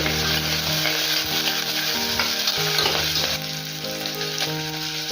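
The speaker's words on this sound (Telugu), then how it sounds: "మీడియం ఫ్లేమ్లో పెట్టేసుకొని పోపు అంతా కూడా బాగా ఫ్రై అవ్వాలి" A tempering with fenugreek seeds sizzles steadily in hot oil over medium flame in a pan, with occasional stirring scrapes, close and continuous.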